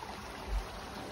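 Water runs off a big old rock in a small outdoor waterfall by a river, a steady close rushing wash with one brief low thump midway and no voices.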